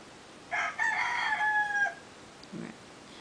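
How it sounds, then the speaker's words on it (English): A rooster gives a single faint, distant crow, followed moments later by a brief soft cluck against a quiet outdoor background. "And you can hear the cocks crowing in the background."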